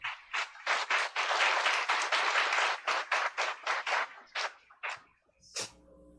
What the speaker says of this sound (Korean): 목사님 박수로 환영하겠습니다.